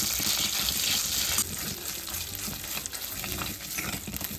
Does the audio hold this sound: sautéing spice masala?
yes